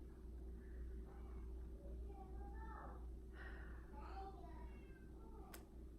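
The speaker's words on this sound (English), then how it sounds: "I think my cat is locked outside. That's what that meowing sound is." A cat locked outside meows several times in muffled, drawn-out cries over a constant low hum, sounding somewhat distant and faint.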